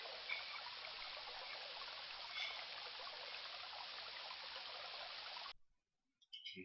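River water flowing steadily in King's Quest I, a constant bright rushing wash that stops abruptly near the end, followed by a couple of faint clicks.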